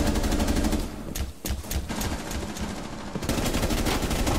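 Rapid automatic gunfire in the video game Rainbow Six Siege, dense loud bursts of shots with a brief lull, then firing resumes, close and continuous.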